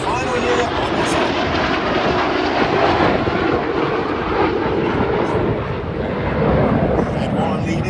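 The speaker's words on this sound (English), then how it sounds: "Pulling up to the vertical with the red, white and blue smoke is Red 9 Flight Lieutenant Dan Bowes." Loud, continuous roar of RAF Red Arrows jet aircraft pulling up to the vertical at an air show at MCAS Miramar, a broad rushing engine noise under a commentator's voice.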